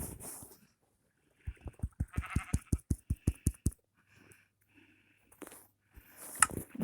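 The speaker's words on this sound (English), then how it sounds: "Man, why wasn't there so many sheep the first?" Sheep bleat in a blocky survival-crafting video game, a quick run of about a dozen short, evenly spaced bleats near and clear, then scattered game sounds after a pause.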